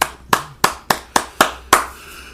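Six slow, evenly spaced hand claps from a single person, close and crisp, with short gaps between them and nothing else heard.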